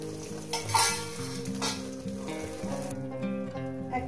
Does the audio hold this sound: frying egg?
yes